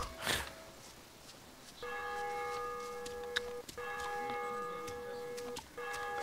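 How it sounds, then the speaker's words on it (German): Church bells in DayZ ring in a repeating pattern of clear, resonant tones, fairly faint, after a brief noise at the start. "ich höre auch gerade die Kirchenglocken"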